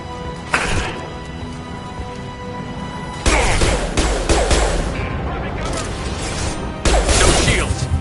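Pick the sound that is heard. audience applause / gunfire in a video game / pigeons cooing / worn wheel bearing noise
gunfire in a video game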